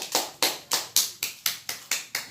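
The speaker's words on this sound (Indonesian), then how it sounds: "Tepuk tangan dulu." Pupils in a classroom give a round of rhythmic applause, about eight sharp, evenly spaced claps in a steady beat with no talking.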